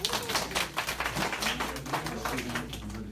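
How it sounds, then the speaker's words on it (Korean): During a Korean church Sunday worship service, the congregation claps to welcome a returning member: quiet, scattered claps from a modest group, with faint murmuring underneath. "우리 환영의 박수 한번 하겠습니다."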